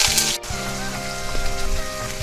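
Chopped onion fries in mustard oil for a Bengali fish curry, giving a steady, dense sizzle and crackle like rain on a surface, close up and continuous.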